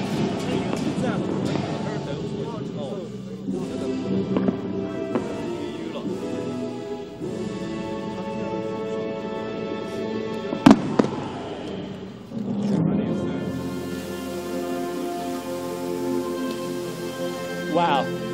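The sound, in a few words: molten iron fireworks display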